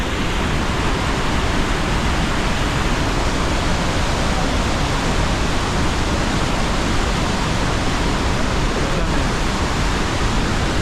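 Roaring Iguazu waterfalls in Argentina, a dense, unbroken wash of rushing water heard loud and steady throughout.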